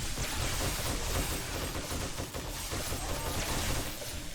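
Rapid, dense gunfire in the game 7 Days to Die as a horde is shot from a steel-block base, a continuous loud barrage of overlapping shots with no pauses and no talk.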